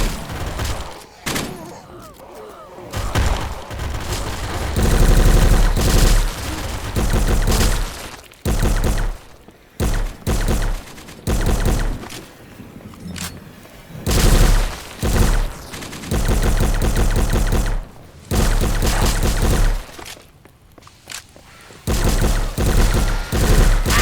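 Loud, sustained bursts of rapid automatic gunfire from the shooter game Those Who Remain, coming in long dense volleys separated by brief pauses, with heavy thumps and a few crashing impacts mixed in.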